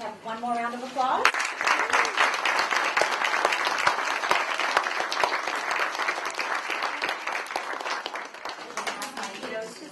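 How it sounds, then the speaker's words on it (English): An audience in a school holiday celebration bursts into applause after a voice speaks, a dense, sustained clapping that fills the room for several seconds. "Can we have one more round of applause?"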